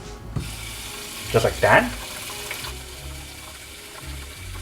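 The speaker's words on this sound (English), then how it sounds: "so that would just pour the water directly inside." Water splashes into a Brita standard water filter pitcher in a short burst of pouring and gurgling, close and moderately loud, with brief speech nearby.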